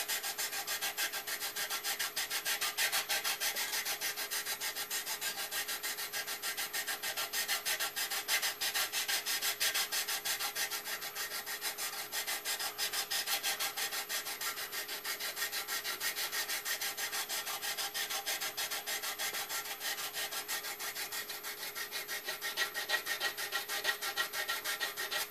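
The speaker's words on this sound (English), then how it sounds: "And then we're going to sand a radius into that bottom." Steady, continuous sanding rasps across the bottom of a small wooden Supercap model boat hull as a radius is rounded in, a close, even, unbroken scrubbing that carries on alone for the whole stretch.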